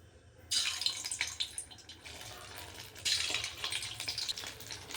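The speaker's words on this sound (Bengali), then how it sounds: "দেখো একটু চ্যাপটা করে নিয়েছি, করে এবার এটাকে তেলে ভেজে নেব।" Flattened dough pieces frying in hot oil, a bright sizzling hiss that rises in two loud bursts as pieces go in, then crackles steadily at close range.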